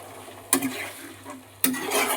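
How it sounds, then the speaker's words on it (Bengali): Water splashes into a pan of fried spices with potatoes for an eggplant curry, two sharp pours about a second apart, each bursting into a loud sizzle that hisses on and slowly fades. "মশলাটাও আমার ভালোভাবে কষানো হয়ে গেছে এবার আমি জল দিয়ে দিচ্ছি জল দিয়ে দিলাম"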